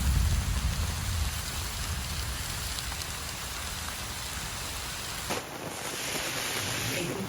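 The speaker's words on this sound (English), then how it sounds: "Here comes the rain." Steady rain pours at a campsite, a dense, loud hiss of drops striking surfaces that continues unbroken throughout.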